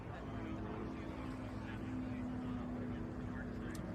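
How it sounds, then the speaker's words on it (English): Offshore racing powerboats cruising back across the water, a low steady engine drone heard at a distance under continuous commentary. "some of the most beautiful boats on the planet make their way back"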